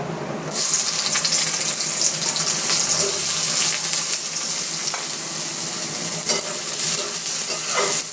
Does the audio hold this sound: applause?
no